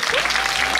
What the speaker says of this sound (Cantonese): 你掌聲咁快。